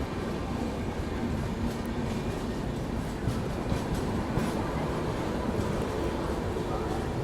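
A Shatabdi Express train accelerates and runs on a parallel track beside the Magadh Express, a steady loud rumble with rail clatter, heard from inside the moving train with some voices in the background.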